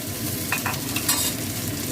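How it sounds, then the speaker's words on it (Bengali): Pumpkin and okra sizzle steadily in hot oil with fried onions while a spatula stirs and scrapes the pan now and then, close and continuous. "এবার আমি এই কুমড়ো আর ঢ্যাঁড়সটা দিয়ে দিলাম।"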